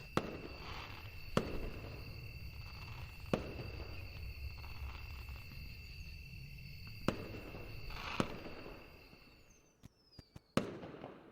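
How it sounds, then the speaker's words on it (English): Fireworks rockets burst in the video game Angels with Scaly Wings, several sharp cracking bangs spaced a few seconds apart over a steady hiss and insect-like chirping, with a cluster of pops near the end. "More rockets followed, their thunderous noise echoing throughout the land."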